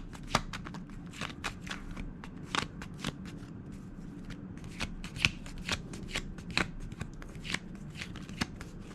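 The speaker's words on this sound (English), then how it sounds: "I'll pull one as I shuffle them." Oracle cards being shuffled by hand, a quiet repeated riffle of soft flicks and snaps at an uneven rhythm, close up.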